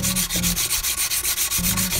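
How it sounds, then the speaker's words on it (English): Sandpaper of 220 grit rubs lightly back and forth over the aft end of an Estes model rocket body tube, giving a steady, close, rhythmic scratchy swish with about eight even strokes and no talking. "I'm just taking some 220 and very lightly I'm just running this over the aft end where the fins and the launch lug are gonna go"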